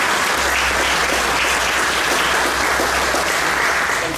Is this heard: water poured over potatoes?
no